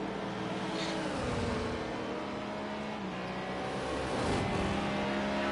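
A GT3 race car in a racing game on the Austrian circuit enters the pits, its engine droning steadily and fairly loud throughout, with the pitch dipping and rising as it slows and picks back up.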